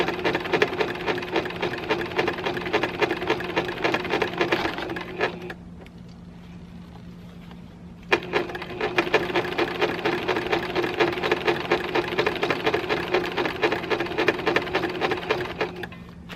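A sewing machine runs steadily while stitching scrappy binding onto a quilt. It stops for about three seconds and then resumes its fast, even whirring, close and clear with no talking.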